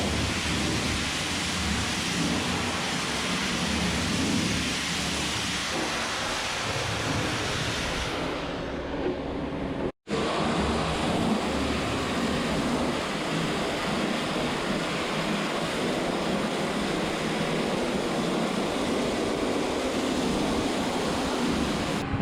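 Strong water rush from a large hose breaking up a thick layer of sugar cane fiber sludge and draining it from the bottom of a molasses tank; loud, steady, broadband gushing that continues throughout with a brief dropout midway.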